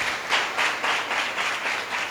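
A church congregation claps hands together in steady rhythmic bursts, a dense wash of many palms filling the room with no voices over it.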